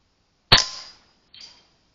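A single sharp .22 caliber rifle crack strikes a steel gong, followed by a ringing metallic tone that fades, then a second fainter ping after a short pause.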